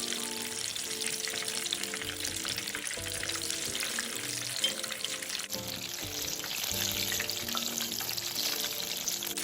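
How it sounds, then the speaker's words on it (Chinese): Shrimp fritters in batter deep fry in hot oil, a dense, continuous sizzle that holds steady throughout with no voices. "一直油炸至虾饼团金黄色后，即可沥干油分"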